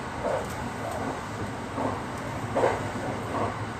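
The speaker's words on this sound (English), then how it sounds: "The train has almost crossed over the Seto Ohashi Bridge" A Marine Liner train crossing the Seto Ohashi Bridge, a steady rumble and rushing hiss of wheels on rails heard from inside, with a few soft periodic thumps from track joints.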